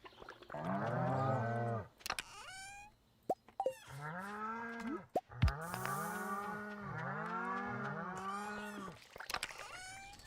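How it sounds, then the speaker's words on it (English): Cows moo repeatedly in the farm game Stardew Valley, a run of drawn-out, bending low calls with brief pauses between them, loud and close, with no talking over them. "Cows are a little noisy."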